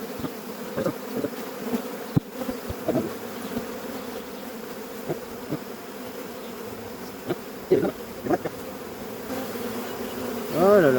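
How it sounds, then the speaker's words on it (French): Honeybees buzz steadily as they crawl back into the side of a hive during an artificial swarm split, a close, continuous drone that swells near the end, with brief handling knocks. "elles sont en train de rentrer dans la ruche de côté"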